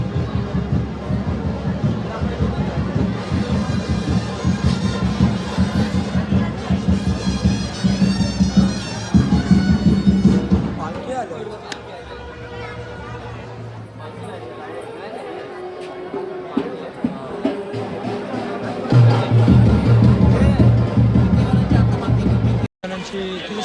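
A dense crowd at a Mumbai palkhi procession fills the scene with continuous loud chatter and babble, nearby voices talking over the steady hubbub, with a drum-like low rhythm in stretches.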